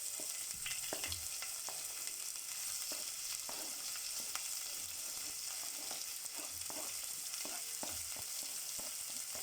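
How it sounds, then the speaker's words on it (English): Finely chopped onions, spring onions and coriander stems fry in oil in a cooking pot for liver stew, a soft, even sizzle broken by repeated scraping and tapping as the mixture is stirred; no talking. "Add in your mixture of finely chopped onions, spring onions, and coriander stems."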